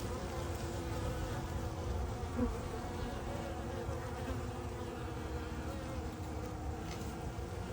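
Honey bees from a newly installed package buzz in a dense, continuous hum close by around a hive with a frame feeder, steady throughout with no talking.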